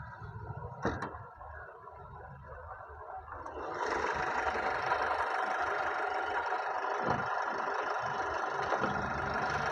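A 2010 Mahindra Xylo diesel engine runs steadily at idle, a low continuous rumble that picks up a louder, busier layer partway through, with no talking over it.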